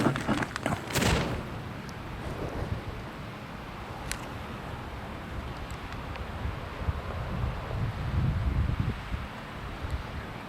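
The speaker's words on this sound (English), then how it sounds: "but a cold north wind." Cold north wind buffeting a microphone on Mammoth Mountain, a steady loud roar with a sharp gusty burst near the start and continuous rumbling turbulence throughout.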